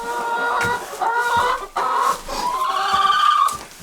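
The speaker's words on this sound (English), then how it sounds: "our chicken flock's doing pretty good" Several chickens cluck and squawk close by in a cabin coop on a freezing below-zero day, with overlapping bursts of hen chatter running continuously throughout.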